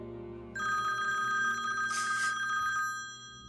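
A telephone rings with a steady electronic bell trill, one long ring heard clearly indoors without any voices.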